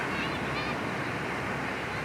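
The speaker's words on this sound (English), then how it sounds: "We came down to the ocean here." Ocean surf rolls in at a beach at low tide, a loud, continuous broadband wash with wind buffeting the microphone throughout.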